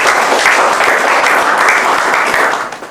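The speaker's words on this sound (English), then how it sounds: "a round of applause for our panelists" Loud, dense applause from an audience for the panelists at a teenage mental health panel discussion, continuous for about three seconds before tapering off.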